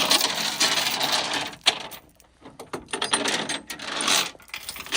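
A winch drags a Ford F350 6.4 manual truck, giving loud close bursts of ratcheting, gear-grinding mechanical whir with a short quieter lull in the middle.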